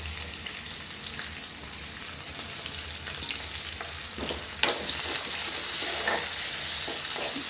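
Onions and green chillies frying in oil seasoned with cinnamon and cloves for a gongura chicken dish, a steady close sizzle with stirring clatter that grows slightly louder partway through, no talking.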